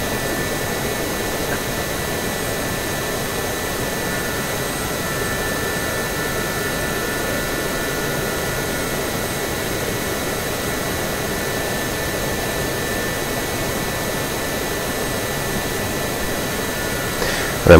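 A Gazelle helicopter's turbine engine roars steadily in flight over an airfield, a loud continuous whine and rush held close and unbroken throughout.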